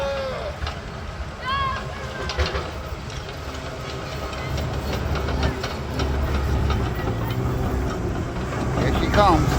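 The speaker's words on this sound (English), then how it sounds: "Driving a dozer." A bulldozer at a touch-a-truck event rumbles with a steady low engine drone and clanking track rattles, moderately loud and close, while people and children chatter nearby.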